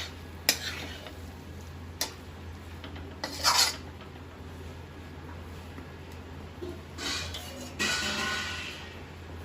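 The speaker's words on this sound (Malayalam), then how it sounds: "നന്നായിട്ട് ഇളക്കി യോജിപ്പിച്ചെടുക്കാൻ കഴിയും" Garam masala powder being stirred into pulao in a pot, scraping and rasping spoon strokes in a few distinct bursts over a low steady hum, no talking.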